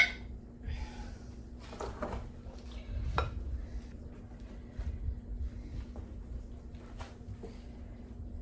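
Coleslaw being stirred and mixed in a bowl: quiet scraping of a utensil with sporadic light clinks against the bowl, close and soft.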